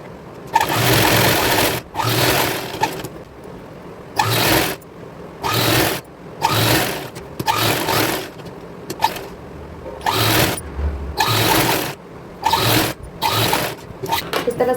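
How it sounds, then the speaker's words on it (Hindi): A sewing machine stitches a blouse and its lining in loud, rapid bursts of mechanical whirring, about a dozen runs of two to three seconds each, with brief pauses between them, close to the microphone. "हम ऊपर और नीचे साइड दोनों में सिलाई लगा लेंगे और पलट देंगे इसको"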